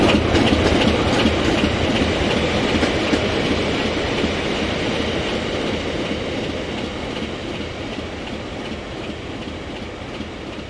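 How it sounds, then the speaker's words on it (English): A locomotive hauling an RHTT set thunders through Bexley Junction Station at speed, with a loud, continuous rumble and rhythmic clickety-clack of the wheels that slowly eases off as it passes. "The train is now seen 15 minutes later thrashing through Bexley Junction Station."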